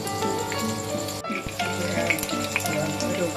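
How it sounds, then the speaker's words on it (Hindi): A vegetable paratha roll fries in a pan with a steady, loud sizzle close by, broken briefly by a short gap and a few soft knocks as it is moved. "इस तरह मैंने इसको फ्राई किया है"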